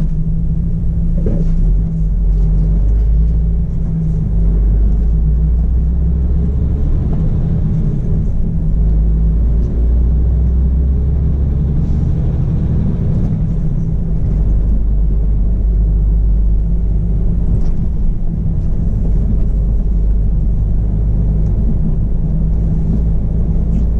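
A truck pulling in and coming to a stop in a parking area outside a roadside eatery set in a former supermarket: a loud, constant low rumble of a heavy engine throughout, with no clear voices.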